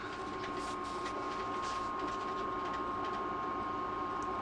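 Steady low rumble inside a moving passenger train travelling from Amsterdam to Berlin, a continuous even drone with a faint sustained tone and no voices.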